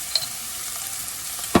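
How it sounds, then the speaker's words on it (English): Chopped yellow onion and garlic sauté in a pan over a medium-high flame, giving a steady close sizzle. A brief utensil scrape or clatter sounds near the end. "have about half a chopped yellow onion, which we're going to saute"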